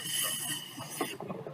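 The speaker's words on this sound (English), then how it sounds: "So it's a pretty decent vacuum here." A laboratory vacuum line running for vacuum filtration, giving a steady broadband hiss with high tonal whine, a few light mechanical clicks and knocks toward the end.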